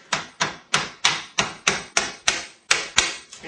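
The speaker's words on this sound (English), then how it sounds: "You take a hammer and you take a screwdriver and you apply pressure right about here" A hammer strikes a screwdriver against the hard salt crust encasing a baked chicken, about ten sharp, evenly spaced knocks, close and loud, with no talking over them.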